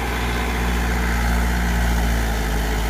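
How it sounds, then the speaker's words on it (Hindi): A Mahindra 275 DI tractor engine runs steadily nearby while driving a Shaktimaan 7-foot rotavator, a loud, constant low rumble with no talking. "और आवाज सुने आप इस ट्रैक्टर की,"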